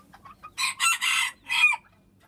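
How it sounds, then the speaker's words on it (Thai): Chickens around a rural home cluck in a burst of loud, close calls with a crowing-like cry, heard alone without talk. "มีไก่เต็ม"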